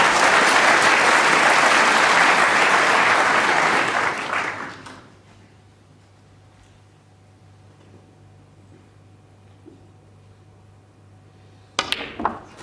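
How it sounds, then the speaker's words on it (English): Packed snooker audience at the 2013 World Championship final applauding a century break: loud, dense clapping for about four seconds that fades away, leaving near silence before a brief burst of clapping returns at the end. "His family applaud as well."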